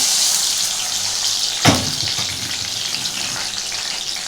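Ginger garlic paste thinned with water tipped straight into a hot pan for begun keema bharta, bursting into a sharp, loud sizzle that then settles into steady close frying hiss.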